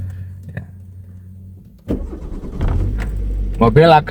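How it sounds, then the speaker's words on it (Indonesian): Manual car engine being started from a steady idle: a quiet low engine hum, a click, then a sudden louder turnover as the engine catches and settles into a steady rumble, with a voice speaking over it. "kita bisa menghidupkan mobil"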